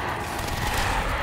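Rapid gunfire rattles in a Black Ops 3 zombies video game match, a dense burst of shots close and loud for about a second.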